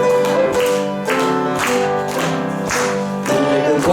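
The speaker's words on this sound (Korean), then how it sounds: "박수 치면서 할까요?" A church congregation sings a hymn together at a Sunday service while clapping along in a steady rhythm, the rhythmic claps sitting under the loud, sustained singing.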